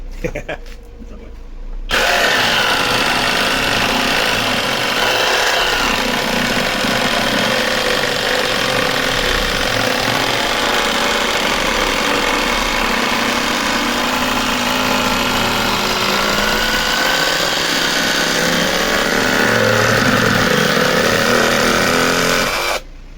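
A LEADER Ultra BL20-22M cordless reciprocating saw cuts through wood, a loud, continuous rasping buzz that runs for about twenty seconds after a brief start, close and steady with slight variations in pitch and load.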